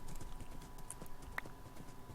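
Horse hooves clip-clopping steadily while riding across terrain in the Minecraft video game, a quiet, even rhythm of repeated steps with no talking.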